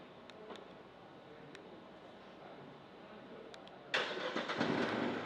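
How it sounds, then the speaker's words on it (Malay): Proton X50 1.5 DCT flagship SUV started by key fob remote start. After several seconds of quiet ambience with faint clicks, the engine cranks abruptly and settles into a steady idle close by. "dia akan mengambil masa lebih kurang 4 hingga 5 saat untuk menghidupkan enjin"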